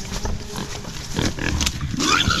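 A pig being sold squeals loudly and harshly up close, a rough sustained cry that swells toward the end of the short burst.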